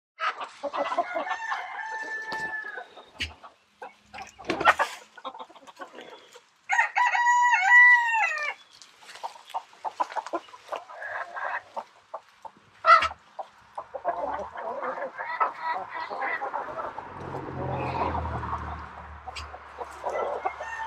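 Hens cluck and a rooster crows in a chicken coop being cleaned out, with repeated drawn-out crows and choppy clucking, close and fairly loud, followed by rustling near the end.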